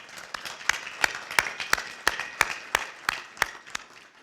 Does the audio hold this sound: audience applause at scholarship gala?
yes